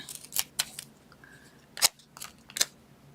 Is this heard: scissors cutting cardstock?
yes